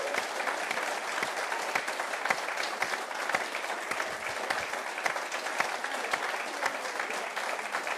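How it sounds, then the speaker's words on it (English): An audience at a political rally in Scotland breaks into sustained loud applause and cheering, dense continuous clapping from a large crowd with no speech over it. "A big cheer for Ian Murray."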